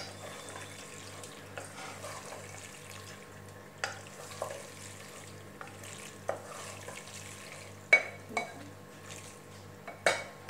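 Masala macaroni stirred in a pan with fresh chopped coriander, giving scattered light scraping and clinking knocks of a utensil against cookware over a steady low background hum, with no talk.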